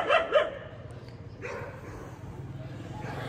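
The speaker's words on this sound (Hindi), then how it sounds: "पता नहीं क्या हो गया, कुत्ते क्यों भौंक रहे इतना।" Dogs barking in a residential building complex, several loud yelps near the start followed by scattered fainter barks amid background noise.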